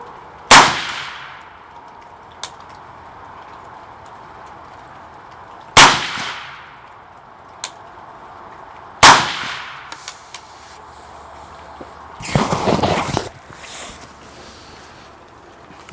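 Rifle shots ring out at steel targets while a 1-6x LPVO scope is zeroed: three loud, sharp cracks spaced several seconds apart, each followed by a faint distant metallic ping, then a longer burst of rustling noise.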